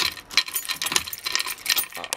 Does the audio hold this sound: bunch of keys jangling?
yes